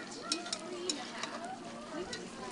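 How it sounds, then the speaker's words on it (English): Vegetable stems cooking in butter sizzle quietly in a pan while being stirred, with soft scraping and clicking of the utensil at irregular intervals. "We're going to put those in and give them a stir."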